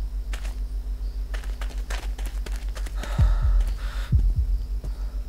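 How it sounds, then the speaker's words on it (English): Heartbeat sound effect in the horror game Folklore Hunter, a steady low throbbing pulse running throughout, with a couple of heavier thumps and brief breathy noises joining near the end. "I have a heartbeat."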